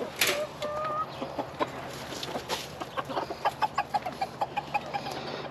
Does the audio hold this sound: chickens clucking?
yes